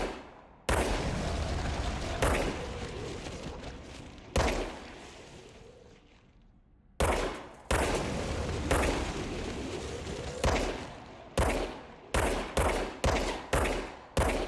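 Rapid bursts of gunfire from the video game Control, loud and close, coming in repeated volleys with brief pauses and a quieter stretch in the middle, then a run of sharp separate shots near the end.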